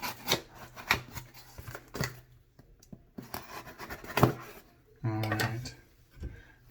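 A mail package is cut open with scissors, giving faint snips, crinkles and scraping of packaging in short, irregular bursts close by.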